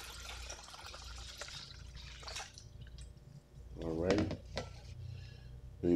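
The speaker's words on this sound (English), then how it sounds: "we're gonna pour some cold water on top of it to kind of cool it down a little bit" Cold water is poured into a container of glazed baby back ribs, a short splashing and filling burst near the middle of the clip, surrounded by quieter kitchen sounds and some talking.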